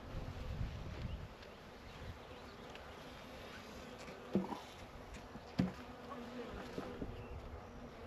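Honey bees buzzing at a healthy hive with yellow comb and larvae, a soft steady swarm drone close by, broken by a couple of brief knocks or handling sounds.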